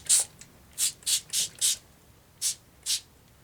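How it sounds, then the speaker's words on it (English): Short bursts of a spray bottle misting paper for an envelope journal, seven quick hissing puffs in an uneven rhythm, close and fairly loud, with no talking. "I'm going to go ahead and spray it just like I did the tracing paper."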